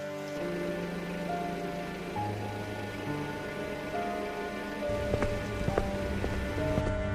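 Steady rain falling on a surface in an animated Hindi story, a continuous even hiss with scattered drops, under a layer of sustained background music tones.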